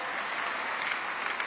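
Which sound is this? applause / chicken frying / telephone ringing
applause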